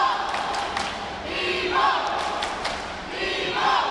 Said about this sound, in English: You can hear the DIMO crowd getting involved, chanting their name.